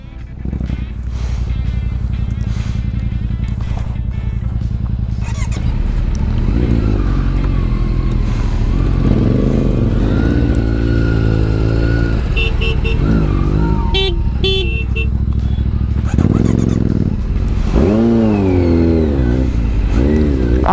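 A motorcycle rides along a road with a steady engine drone, shifting revs, passing traffic and a horn toot, while voices talk over it.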